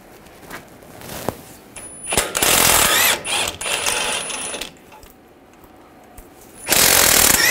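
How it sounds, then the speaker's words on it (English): Ratchet wrench with a 21 mm socket loosening the caliper bracket bolts on a 2011-2018 Ram 1500 front brake, loud bursts of rapid metallic clicking in several spells, close up, with clanks of metal between them. "Using a 21 millimeter socket, take these two caliper bracket bolts out."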